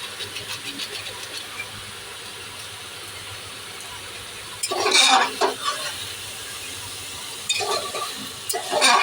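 Ground spices with black pepper and Kashmiri chilli powder being stir-fried in a pan for Bangladeshi-style kacchi biryani: a soft background hiss, then two bursts of scraping and clattering stirring, no talking.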